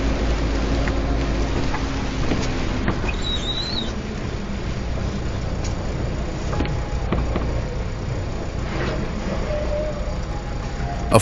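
Steady heavy rain hisses continuously at close range over a driving scene, a dense wash of drops with a low rumble beneath and no voices.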